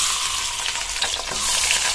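Rohu fish heads, rubbed with salt and turmeric, fry in oil left from frying the fish, giving a steady, close sizzle with a soft crackle that holds for the whole stretch.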